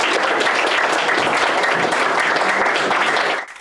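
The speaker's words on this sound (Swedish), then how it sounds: "En stor applåd!" An audience at the Swedish Book and Media Fair 2021 gives author Runar Sögaard loud, dense applause, a steady roar of many hands clapping up close that cuts off abruptly at the end.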